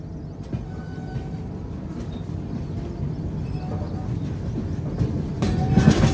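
Trains passing along an Indian railway line, a steady low rumble and rattle of rolling stock building slightly toward the end, with faint wheel clatter and no talk.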